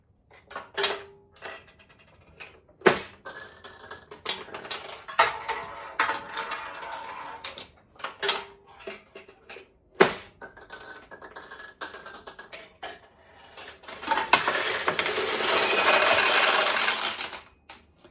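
A restored 1952 vintage pachinko machine runs while metal balls clatter through it. Sharp clicks and mechanical rattles come in scattered bursts, ending in a dense, loud rush of rattling near the close.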